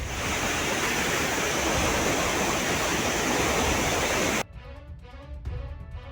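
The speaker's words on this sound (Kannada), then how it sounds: "ದಟ್ಟ ಕಾಡಿನ ನಡುವಿನ ನೀರಿನ ಭೋರ್ಗರೆತ" A loud, continuous roar of a rushing river in dense forest during heavy monsoon rain in Karnataka fills most of the clip, then cuts off abruptly to quieter, unrelated sounds near the end.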